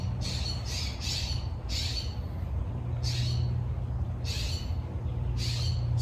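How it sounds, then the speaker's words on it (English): Springtime birds squawk in repeated harsh bursts, about six calls spread over several seconds against a steady low background rumble outdoors in a garden in February. "Springtime birds are squawking."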